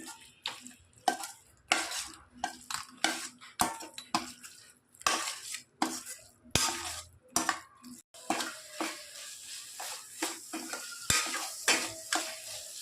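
Vegetables sizzle in a hot pan while a spoon scrapes and stirs in repeated, rhythmic strokes, close and fairly loud.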